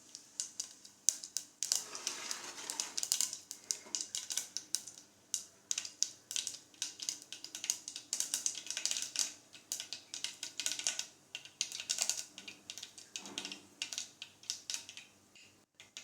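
Mustard seeds sputter and pop in hot oil in a pan while cooking a Tamil drumstick tamarind curry, a steady rapid crackle of small sharp bursts continuing throughout with no voices.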